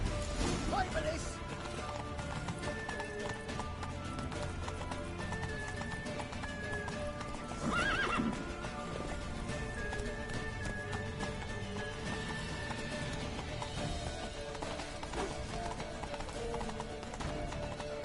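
Rapid clip-clop of several horses galloping, steady and close, with an occasional whinny and a brief crash partway through, over busy game music and voices.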